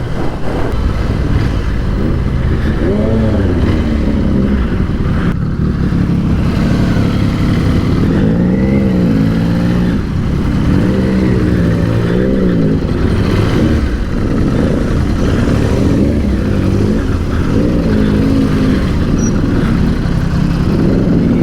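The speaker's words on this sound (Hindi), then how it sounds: "क्या आवाज़ है बाइक की" Royal Enfield motorcycle engine running steadily throughout, a loud, close low rumble with rising and falling revs, no talk over it.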